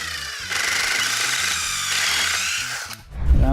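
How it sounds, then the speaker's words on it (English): A power drill whirs steadily as it bores into wood, then the motor winds down and a dull knock follows. "Now I'm going to drill this hole down till I hit my stop"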